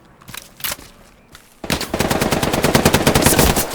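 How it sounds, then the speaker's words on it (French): Rapid automatic gunfire in the World War II shooter Hell Let Loose: a few scattered shots, then a loud, sustained burst of machine-gun fire with a steady rattling rhythm. "On se fait rafaler."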